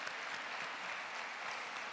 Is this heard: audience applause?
yes